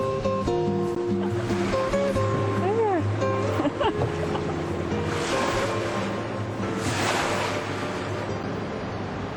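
A tour boat on a Tokyo river is rocked by the wakes of faster boats. Water sloshes and surges over a steady engine drone, with tonal background sounds and faint voices.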